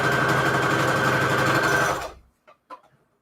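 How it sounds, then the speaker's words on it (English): A sewing machine stitches scrap fabric down in a steady, close, loud whir for about two seconds, then stops, leaving a few faint clicks and handling sounds. "Go ahead and sew this fabric down"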